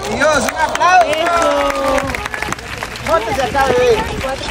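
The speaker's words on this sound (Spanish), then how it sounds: "Un aplauso." A small group claps for a boy who has just won a top prize, loose sharp hand claps in quick bursts, close and fairly loud, with excited voices and chatter running over them.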